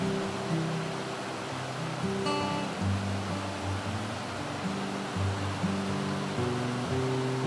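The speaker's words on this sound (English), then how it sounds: "Viewing this lovely waterfall across the deep pool at its base" Broadband rushing roar of a waterfall pouring into a deep pool on Deep Creek in the Great Smoky Mountains, steady and close, with low tonal hum layered underneath.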